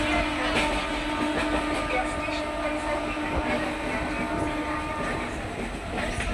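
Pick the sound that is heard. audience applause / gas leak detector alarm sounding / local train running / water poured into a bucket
local train running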